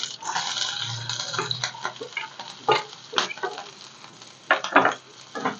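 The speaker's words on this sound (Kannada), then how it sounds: "ಈರುಳ್ಳಿನ ಚೆನ್ನಾಗಿ ಫ್ರೈ ಮಾಡ್ಕೊಳ್ಳೋಣ" Chopped onion fries in a pan, a light sizzle broken by several sharper stirring scrapes and taps, some louder bursts near the end; close and intermittent, with no talking.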